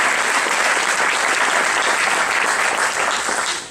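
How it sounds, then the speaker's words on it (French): An audience claps steadily and loudly throughout, a dense continuous applause that fades slightly at the very end. "vous pouvez les applaudir très fort"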